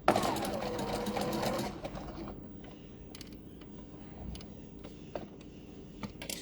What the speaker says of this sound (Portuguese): Vai costurar aqui na beiradinha.